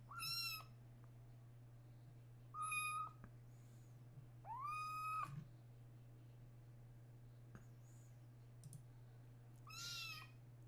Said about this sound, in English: You can't hear me over the kitten meowing?